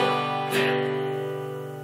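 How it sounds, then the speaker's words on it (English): Single guitar strum in a swung eighth-note rhythm, a bright attack that rings out and slowly fades, heard alone and close. "but we want to be able to play our swung eighths, which sound like this."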